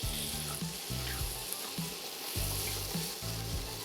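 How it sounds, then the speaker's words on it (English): Minced garlic sizzles loudly in melted butter in a skillet, with a steady frying hiss and repeated scraping stir strokes close by. "And then I am just going to simply add in 2 teaspoons of minced garlic."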